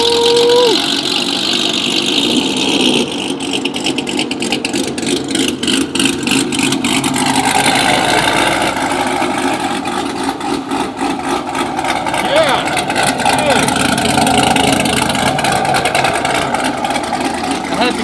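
A 900 HP Chevrolet Camaro ZL1 engine runs close by with a steady, loud rumble throughout, while people talk over it.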